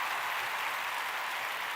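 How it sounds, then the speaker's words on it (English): Applause from a studio audience at a live television show, a steady dense wash of clapping without breaks, moderately loud and filling the short stretch. "give her a round of applause"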